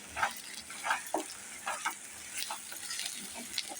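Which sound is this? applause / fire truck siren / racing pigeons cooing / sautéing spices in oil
sautéing spices in oil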